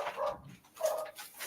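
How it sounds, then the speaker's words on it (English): Dogs bark faintly indoors during a thunderstorm, two short muffled barks with a whimpering tone, somewhat distant and quiet. "Sorry about the barking."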